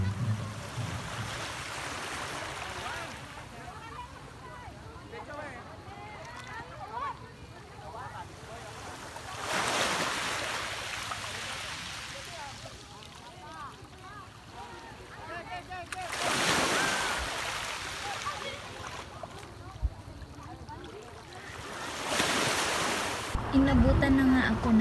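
Sea waves roll in and break on the shore at Kangaroo Beach, Gonzaga, Cagayan, in a slow repeating rhythm, with wind buffeting the microphone between the crashes.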